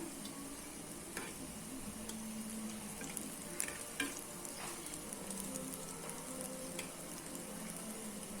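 Susiyam sweet, a maida shell filled with chana dal and jaggery, sizzles steadily in hot oil in a pan over a medium flame as the pieces are flipped, a few soft clicks and splashes rising above the constant frying hiss.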